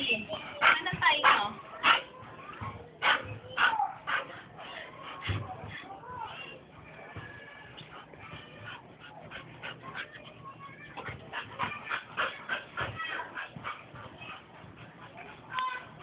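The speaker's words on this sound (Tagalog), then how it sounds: "Ba't biglang tumahol?" Fiona the dog gives a few sharp barks and yips close by early on, then whimpers under steady conversation.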